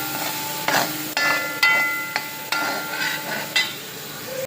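Cooked amaranth greens and jackfruit seeds stirred in a pan, with a soft continuous sizzle broken by several distinct scraping strokes of a spoon against the pan, close and clear, no voices.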